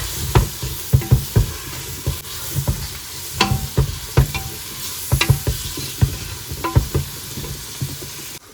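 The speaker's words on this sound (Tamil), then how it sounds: "இனி இதுக்குள்ள வந்து புதினா இலையும் மல்லி இலையையும் போட போறேன் அதையும் சேர்த்து வதக்கிட்டு" Mint and coriander leaves being sautéed in a pan for mutton biryani, with a steady sizzle under repeated sharp scrapes and taps of a spatula stirring at a quick, uneven rhythm, close and clear.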